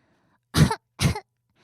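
Two or three short coughs from the flower character in a Little Prince radio drama reading, two distinct bursts close to the mic with a brief pause between, nothing else around them.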